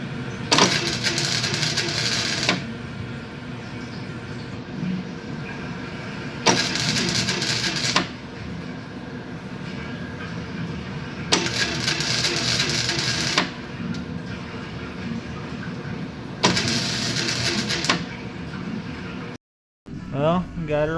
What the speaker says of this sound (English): Now we're gonna start welding.